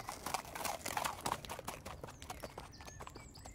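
A farmer's horse clip-clops along at a walk, hooves landing in a quick, even rhythm, loudest at first and then fading as it moves away.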